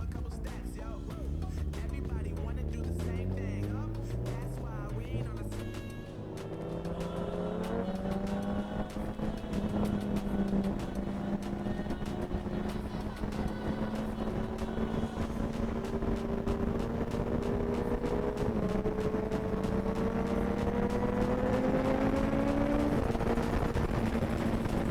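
A fat-tyre Suzuki Hayabusa with a Brocks exhaust revs and pulls away, loud and close, its pitch climbing through gear changes with sharp crackles over a strong roar.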